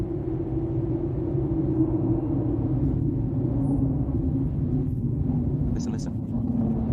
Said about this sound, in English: The rolling noise remains relatively contained, and the road noise is very clean.